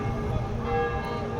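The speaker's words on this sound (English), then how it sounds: "You hear those bells?" Church bells in France ring steadily and continuously, full and resonant, filling the whole stretch with no voices over them.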